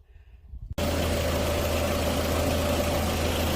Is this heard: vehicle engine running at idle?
yes